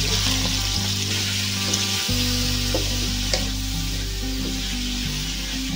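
Chop suey vegetables sauté in hot cooking oil in a pan, giving a loud, steady sizzle with a low hum and occasional stirring clinks nearby.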